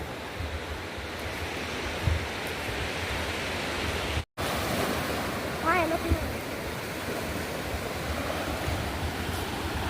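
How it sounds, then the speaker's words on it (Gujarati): Continuous roar of sea waves breaking on the shore at Vadhera, Gujarat, loud and even, with a momentary cut partway through. "ક્યારેક આવો વઢેરા દરિયો છે મસ્ત છે"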